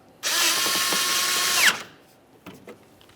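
A power tool drives a 10mm bolt on a Ford Transit Connect, giving a loud, steady whir of about a second and a half that winds down abruptly, followed by a few faint clicks.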